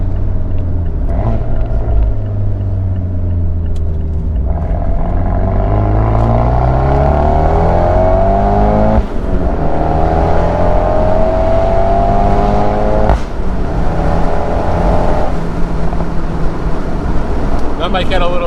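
A big-turbo Fiat 124 Spider Abarth engine pulls hard from inside the car, its loud droning note rising through repeated gear changes with short dips between the climbs.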